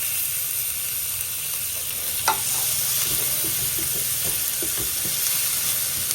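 Corned beef hissing in a pan with garlic and onion, a dense steady sizzle with a sharp clink near the start and scattered small stirring taps, no talking.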